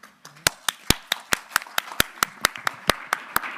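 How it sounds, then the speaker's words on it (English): An audience claps at a Royal Society event marking the Internet's 50th anniversary. The claps are sharp and fairly regular, about three per second, and close by and sparse rather than a dense roar. "I would remember to tell my wife that people clapped at me today"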